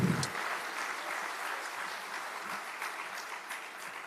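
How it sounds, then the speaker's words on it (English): Audience applause at a public procurement conference, steady dense clapping that holds for several seconds at a moderate, somewhat distant level after a brief low sound at the start. "A round of applause for our performer, Andre."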